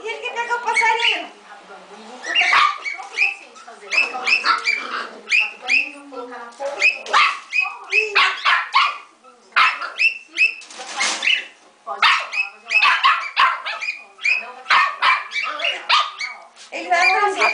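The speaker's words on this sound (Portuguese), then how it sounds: "A conversa do cachorro e da calopsita." Dog barking and yelping excitedly at a pet cockatiel nearby, in close, loud, irregular bursts of barks and whines mixed with the bird's squawks, continuing throughout with only brief pauses.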